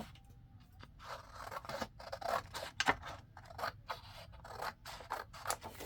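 Scissors snip through paper in a run of quick, irregular cuts, close and quiet, trimming white edges off pieces of a junk journal.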